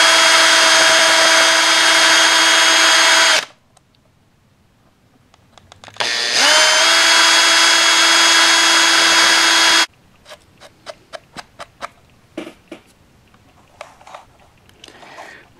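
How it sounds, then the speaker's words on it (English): Small power drill boring 2 millimeter holes for a model chimney: two loud, steady high whines, each running a few seconds, separated by quiet, followed by a series of light clicks and taps. "I'm just drilling some 2 millimeter holes ready for the chimney."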